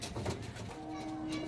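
White pigeons at a small home loft make a faint, brief, low cooing murmur against a quiet background.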